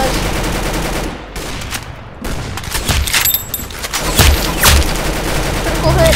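Gunfire in the mobile shooter game Arsenal: loud, close bursts of rapid shots and single cracks, with a brief lull midway before the firing picks up again, while a voice talks over it.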